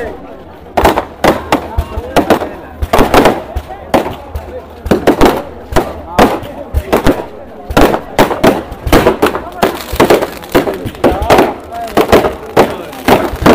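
Firecrackers burst over and over at the Howly Rash Mela festival in Assam, sharp loud cracks in irregular clusters, some rapid and overlapping, with people talking in between.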